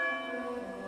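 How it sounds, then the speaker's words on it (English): A monastery bell rings a single sustained tone, its bright metallic overtones ringing steadily and slowly fading, close and clear with nothing else heard. "all ordered by the bell, the chimes of time."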